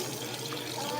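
Tap water runs steadily from a faucet in a home without drinkable running water, a continuous hiss filling the moment with a voice speaking over it.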